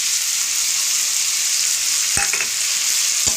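Spice masala for ghugni being stir-fried in a pan gives a steady, close, dense sizzle, broken near the end by a couple of short spatula scrapes.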